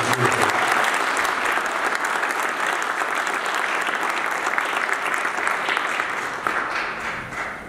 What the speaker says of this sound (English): Let's give the very passionate and open and hardworking honoree another round of applause.